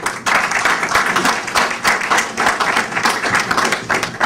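A big round of applause from an audience, dense continuous clapping sustained evenly at full strength throughout, close and loud.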